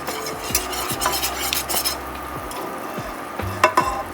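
A whisk stirs enchilada sauce in a pan on the stove, giving repeated scraping, clinking strokes against the metal with faint sizzling underneath, fairly close and unaccompanied by talk.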